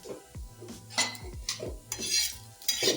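Onion browning in a pan for an egg curry, stirred with a utensil: repeated close metal scrapes and clinks against the pan over a faint sizzle, with no voices.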